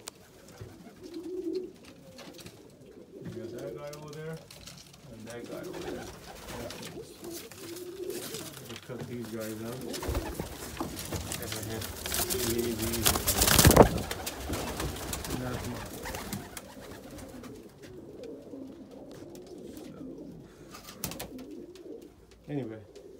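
Pigeons coo softly and repeatedly inside a loft housing almond pigeons, a low, near cooing that continues throughout under a voice speaking.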